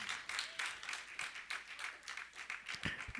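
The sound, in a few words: congregation clapping in church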